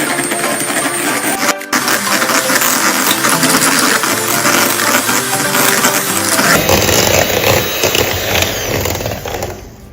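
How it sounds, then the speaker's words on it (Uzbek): An electric hand mixer whips cream for a trifle, a loud dense motor whine with rattling beaters that shifts pitch partway through and runs nearly continuously, close up and alone. "Endi buni quyilgunicha ko'pirtirib olamiz mikser qilib."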